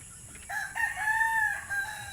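Native hens kept in a coop cluck and call once, close by, against a low hum of background noise.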